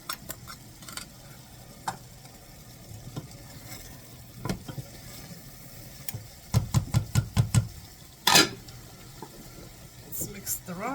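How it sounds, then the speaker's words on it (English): Rice and spices stirred in a pan for a curry, with scattered scraping clinks and a brief cluster of louder scrapes near the end, a low sizzle underneath and faint talk in places. "Let's mix the rice a little bit."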